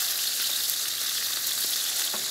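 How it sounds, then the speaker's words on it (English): Sauce with capers sizzles steadily in a frying pan for a buckwheat pasta and shrimp dish, a loud continuous hiss with faint scrapes of stirring. "So we're gonna stir this all up."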